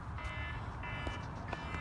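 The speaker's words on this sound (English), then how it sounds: "Oh, that sounds like my phone." Electronic phone alarm chiming in short repeated tonal bursts, moderately loud over a steady background hum, with no talking.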